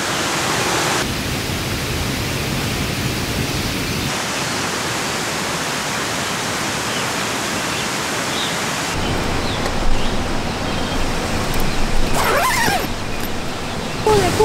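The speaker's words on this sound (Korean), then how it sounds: "비가 와요." Heavy rain pours down in a forest at a camping site, a dense and steady hiss that stays constant throughout, with a brief voice near the end.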